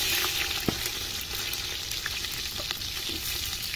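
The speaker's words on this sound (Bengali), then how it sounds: "আমরা তেল দিয়ে নেব" Onions fry in hot oil for beef khichuri, giving a steady close crackling sizzle with a few sharp pops and light stirring throughout.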